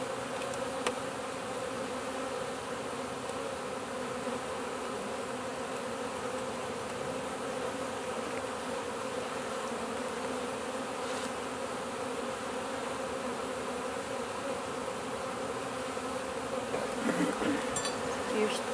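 Honey bees swarm around a newly set-up hive with a dense, continuous buzzing drone, close and steady throughout, with a few louder fly-bys near the end.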